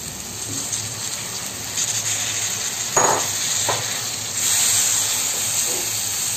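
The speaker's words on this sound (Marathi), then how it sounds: "आपण तेलामध्ये आपण असं छान जरा 2 मिनिटांसाठी परतून घेऊया।" Dried shrimp (javala) sizzling in hot oil with masala, a steady close frying hiss with brief louder bursts as the pan is stirred, no voices.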